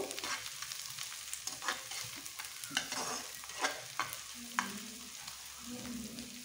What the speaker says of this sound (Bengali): দিয়ে আবার ভালো করে ব্রাউন কালার করে পেঁয়াজটা ভেজে নেব